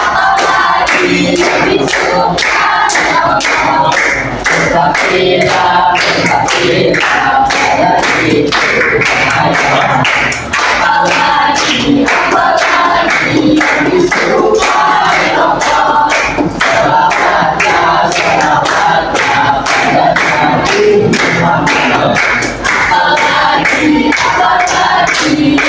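A large audience claps loudly and without pause, with dense overlapping handclaps and crowd noise running continuously for nearly half a minute.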